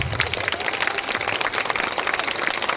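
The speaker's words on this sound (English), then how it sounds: "A bigger round of applause for the kids." Audience applauds for children after a Ganapati Vandana dance performance at a Ganesh Chaturthi celebration in Sherwood, a dense, steady wash of many hands clapping close and loud throughout.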